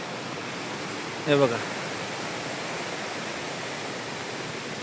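Forest stream water runs beneath rocks just below a hidden waterfall, a steady, even rush that fills the whole scene, broken only by one short spoken phrase near the start.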